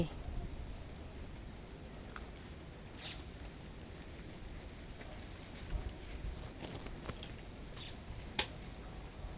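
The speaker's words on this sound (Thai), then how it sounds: "ฟังเสียงฝนมาแต่ไกลเลยตอนเนี้ย" Faint, steady hiss of late-season rain falling in the distance in Lampang, Thailand, with a few scattered drips and taps standing out.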